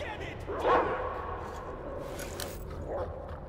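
In the video game Metro Exodus, a dog gives one short bark and then a faint yip, set against a steady background rumble.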